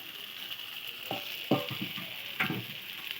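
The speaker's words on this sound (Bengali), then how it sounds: "দিয়ে ভালো করে কষে নেব" Kuche fish curry with fresh coriander leaves stir-fried in a pan, giving a steady close sizzle broken by a few sharp stirring scrapes and clatters, with no talk.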